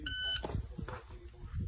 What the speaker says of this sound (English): It beeped at 3 seconds